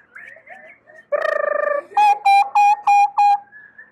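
People vocally imitate birdsong in a garden, first a wavering, quavering call, then five short, bright chirps in a steady row, clear and close with no talk.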